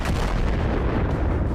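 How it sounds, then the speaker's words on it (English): An Msta-S self-propelled howitzer blows up along with its ammunition, producing a continuous loud, close rumbling blast full of dense low-end crackle and booming. "A powerful explosion."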